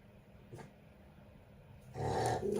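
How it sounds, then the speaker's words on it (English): A dog indoors growls low and rough, rumbling in a loud burst near the end after a short earlier grumble, as if reacting to other dogs fighting outside. "she's mad because she hears other dogs out there and they're out there fighting"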